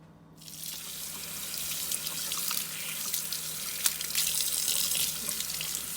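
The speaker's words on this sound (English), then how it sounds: "Now I'm going to go to rinse my sponge out in another sink" Tap water runs steadily into a cast iron sink as a sponge is rinsed, a close, continuous splashing hiss that starts abruptly after a brief quiet moment and carries on with small splashes and no talking.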